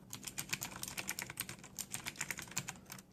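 Fast, steady clicky typing on a Razer BlackWidow 2014 mechanical keyboard with Kailh Green switches, each keystroke crisp and distinct, close up with no voices.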